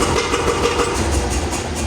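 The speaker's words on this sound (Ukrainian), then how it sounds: "Якийсь почався стук через вихлопну" A YuMZ tractor engine running with a knock coming through the exhaust during ploughing, a loud, continuous, rough rumble with rapid regular pulsing beats, heard close up.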